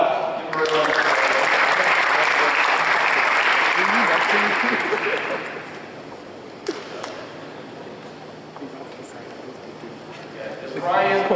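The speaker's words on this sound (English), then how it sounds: "Give him a round of applause." Audience applause at a high school football awards ceremony, a loud, dense burst of clapping that holds steady for about five seconds and then fades into quieter room noise with a few scattered claps.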